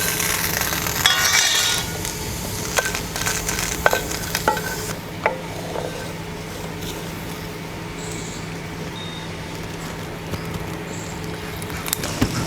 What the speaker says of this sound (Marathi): तर अद्रक लसूण भाजते